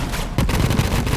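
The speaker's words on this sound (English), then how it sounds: "You see how many crits are going off on these explosions because of flak's skill" Explosions from the Flakker shotgun in Borderlands 3, a rapid run of loud, dense blasts and crackling bursts that go off back to back after a brief quieter start.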